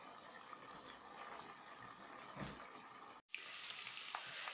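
Meat sizzles steadily in hot oil inside a multicooker, a dense crackling hiss close by, with a brief break in the middle before the frying resumes.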